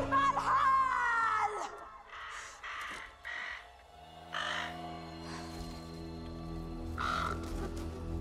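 A crow caws several times in a game cinematic from Apex Legends, harsh repeated calls over a droning musical score, fairly close and clear.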